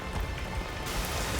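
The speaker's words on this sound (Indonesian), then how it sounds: "Suara gemercik hujan kedengaran menyatu dengan bunyi alam sekitar." Rain patters steadily on surfaces outdoors in a natural setting, a dense close-up spray of small droplet hits under a continuous wash, with no talking heard.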